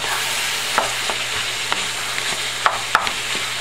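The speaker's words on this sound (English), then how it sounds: "this way I don't have to add any extra oil, and all the onions and the pepper get cooked" Onions and pepper cooking in rendered meat fat with no added oil, a steady close sizzle and crackle with a few light stirring clicks, no speech.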